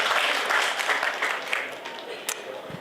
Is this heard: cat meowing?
no